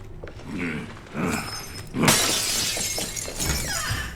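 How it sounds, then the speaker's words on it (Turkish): Glass shatters in the video game Hello Neighbor 2, a sudden loud bright crash that sprays into a scatter of tinkling shards, after a couple of softer game thumps and a short voice sound. "Şu camı kırmam lazım."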